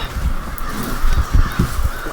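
Crows cawing outside a window, a few harsh calls heard close among low rustling noise.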